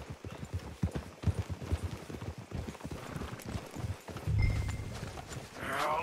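Horse hooves clip-clop in a rapid, uneven rhythm in Red Dead Redemption 2, fairly close and moderate in level, followed by a brief louder scuffle and a soft whinny-like sound at the end.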